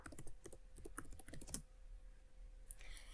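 Quick, close tapping of keys on a computer keyboard for about one and a half seconds, then a quiet pause with a single later click.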